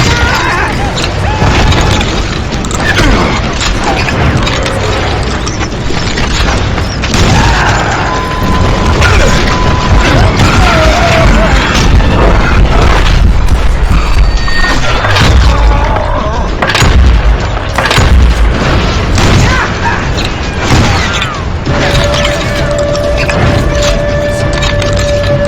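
A sustained gunfire shootout in the western game Call of Juarez: Gunslinger, dense cracking shots and heavy booms packed together, loud and relentless throughout, with game sounds layered in.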